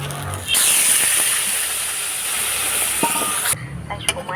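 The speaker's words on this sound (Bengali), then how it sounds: "এবার এর মধ্যে জল দিয়ে দেবো ডালিয়া আর ডালটা সিদ্ধর জন্য" Water poured into a hot pan of lentils and daliya that have been fried with spices, giving a loud, sudden steaming hiss that holds for about three seconds before dying down.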